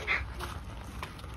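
A dog gives a short, soft whimper near the start, then low snuffling and faint movement fill the rest of the brief moment in a room.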